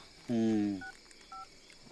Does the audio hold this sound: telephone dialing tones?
yes